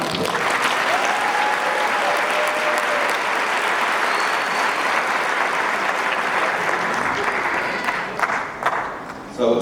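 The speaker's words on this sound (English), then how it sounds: "We can clap" Audience of parents and guests clapping at a 2022 high school graduation ceremony, a broad sustained wash of applause for several seconds that thins toward the end, with some voices mixed in.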